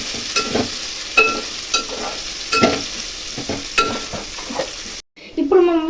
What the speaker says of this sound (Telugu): ఇప్పుడు ఇది కొద్దిసేపు ఫ్రై కావాలి.